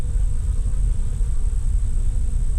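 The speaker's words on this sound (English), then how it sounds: "These bees are fighting each other." A dense, steady buzz rises from honey bee swarms fighting at a hive box as a new swarm tries to move in, loud and close, with a constant drone and no talking.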